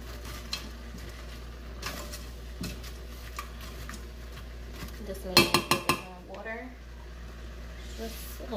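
A spatula presses and breaks up frozen spinach in a pan, with clattering, scraping taps of metal against the pan in quick bursts and a cluster of louder knocks midway, while a voice is faintly heard.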